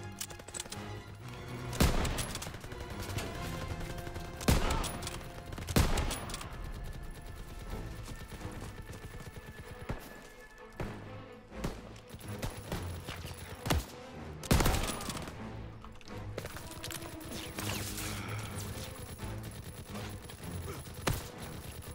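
Rapid volleys of gunfire from the World War II shooter Call of Duty WWII, with sharp loud bursts and machine-gun rattles at irregular intervals over a continuous background of battle noise.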